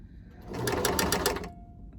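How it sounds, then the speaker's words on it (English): A sewing machine stitches over folded fabric while a face mask is being made, a fast steady whirring burst that rises and holds for about a second, then stops, close and clear with no talking. "on top of the fabric when you're going over them, so it doesn't get caught under the machine"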